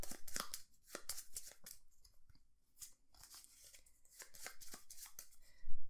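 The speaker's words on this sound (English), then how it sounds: "And we shuffle them again for a new draw pile." Wingspan Automa playing cards being shuffled into a new draw pile, a quick run of crisp riffling and snapping bursts close by, pausing midway before another burst of riffles.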